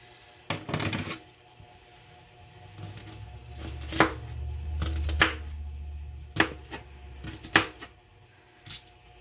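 A knife chops through pineapple or tri-tip on a cutting board in a kitchen, a handful of sharp irregular thunks and taps spaced a second or so apart, close and fairly loud, with no talk.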